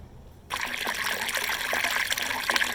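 Fresh running spring water trickles and splashes at a camp cabin, starting abruptly and then flowing steadily and close by, with no voices.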